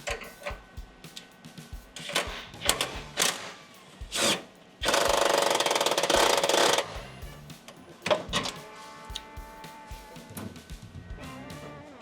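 An impact wrench on a bolt under a Mercedes Sprinter van: scattered clinks and tool handling, then a loud steady two-second burst of the wrench, followed by more metallic clatter and rattling.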